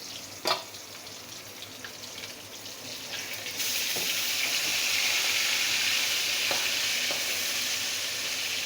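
Fish frying in hot oil for a fish curry with figs, sizzling steadily with scattered sharp pops and spatters, starting quieter and then swelling into a loud, dense hiss partway through.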